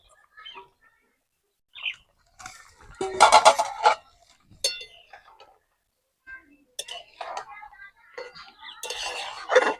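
Fish heads are dropped into a simmering pot of muri ghonto. Irregular clinks, scrapes and soft thuds of a utensil against the pot come in short bursts separated by pauses.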